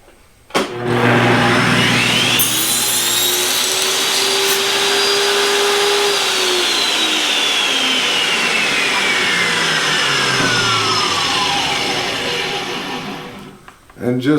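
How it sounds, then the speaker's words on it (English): A table saw with a crosscut sled slices a board down to a 4-inch piece: the motor spins up to a loud steady whine, the pitch sags under load through the cut, then winds down near the end. "This is going to be exactly where my blade's going to cut it, and it's going to leave me with a 4-inch piece of material."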